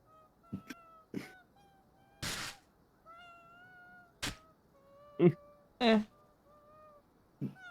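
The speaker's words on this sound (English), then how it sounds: "Is that kitty singing?" A cat meows in a sing-song way inside the video game Ghostwire: Tokyo, with several short, bright calls spread across the moment and brief noisy bursts between them, heard over a quiet game background.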